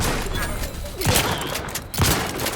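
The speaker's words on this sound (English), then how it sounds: "That's a fucking grenade." A grenade explosion and gunfire in the video game The Outer Worlds 2 come through as a dense burst of shots with two sharp, thudding blasts about a second apart over continuous combat noise.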